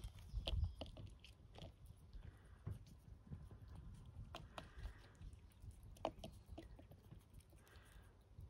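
A hedgehog eats and licks its food up close, giving off scattered soft clicks, smacks and small wet chewing ticks at an irregular pace over a quiet background.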